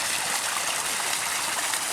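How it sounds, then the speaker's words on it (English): Well water gushing from a pipe into a pond, a steady, full-bodied hiss and splash of flowing water, close and constant with no pauses. "One last time to fill up the pond before I shut the water off out here."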